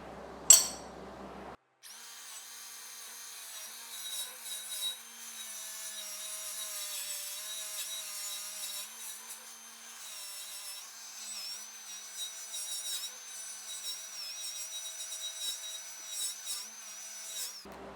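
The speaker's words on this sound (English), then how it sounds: "So I'm going to grind the paint off." An angle grinder strips paint off steel table legs, a continuous high whining grind that wavers in pitch as pressure changes, steady and close after a brief knock at the start, with no talking.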